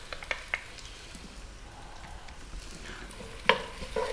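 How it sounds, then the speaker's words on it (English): Onion, celery, carrot and garlic sauté in a pan with a soft, low sizzle, broken by a few clacks and scrapes as the vegetables are tossed and stirred. "Let's just throw this around in the pan and get them on their way."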